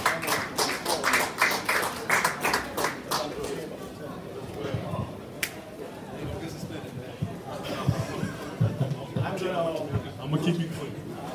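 Applause from a small audience after a basketball press conference, a run of distinct hand claps over the first few seconds that fades out as talking takes over.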